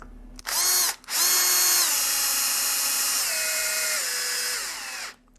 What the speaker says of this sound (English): Very precise way of tapping these holes